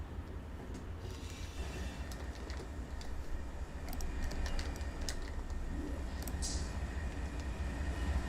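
Engines of a freight train in Run8 Train Simulator V3 rumble steadily at low volume with a constant deep drone. Occasional faint clicks and rattles sound over the drone, and no one is talking.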